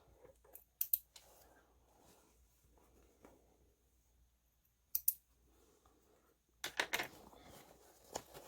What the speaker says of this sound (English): trim our threads